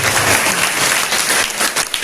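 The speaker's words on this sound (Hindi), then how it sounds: "इसके लिए तो हमको तालियां बजानी चाहिए" At a village council felicitation for secondary-school students, the gathering claps for a local author's books, a short, loud burst of dense applause from many people.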